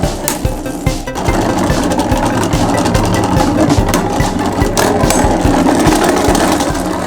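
Beyblade Burst Turbo spinning tops whir and grind against each other in a plastic stadium, a steady buzzing drone with sharp clicking collisions throughout, loud and close.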